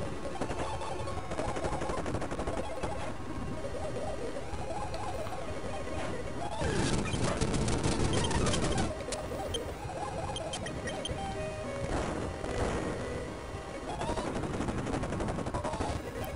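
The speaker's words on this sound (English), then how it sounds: "That sounds cool. Sounds like a machine gun." Rapid machine-gun-like rattling from the Pokemon Fire Red video game, a fast continuous stream of synthetic bursts running for many seconds over busy game music, with a louder stretch partway through.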